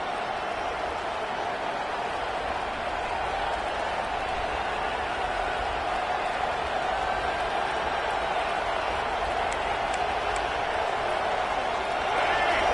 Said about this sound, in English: this crowd coming to life here